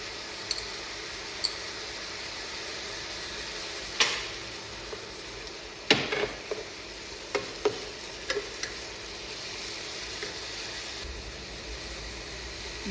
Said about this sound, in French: Vous écrasez bien la kefta.